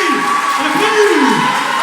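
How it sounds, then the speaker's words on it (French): A concert audience cheers and whoops loudly and continuously, with many voices shouting together and a few scattered claps. "Allez, on applaudit."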